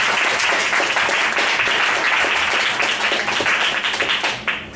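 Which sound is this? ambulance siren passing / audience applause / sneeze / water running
audience applause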